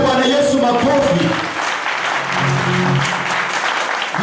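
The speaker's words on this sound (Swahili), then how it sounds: "Mpe Bwana Yesu makofi." A church congregation at a Sunday prayer service applauds together in a loud, sustained burst of clapping that fills the room, with voices mingling over the applause in the first part.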